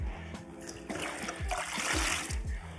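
Koch Chemie Rapid Rinseless wash solution sloshing and trickling in a bucket as a towel or mitt is dipped and lifted, with close splashes and dribbles over a steady wet background.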